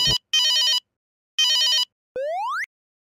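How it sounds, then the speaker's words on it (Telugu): A phone ringtone chirps in two bursts of rapid electronic trills, then a rising boing-like tone, clean and close in a quiet room. "నాకు ఫోన్ వచ్చింది"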